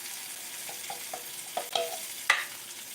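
Rhubarb bacon dipper batter sizzles in a frying pan, a steady close fry hiss with a few sharp pops and stirring scrapes building toward the end, no talking.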